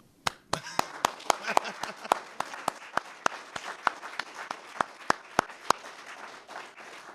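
An audience applauds with scattered, distinct claps that are sparse and moderately close, over a soft background wash.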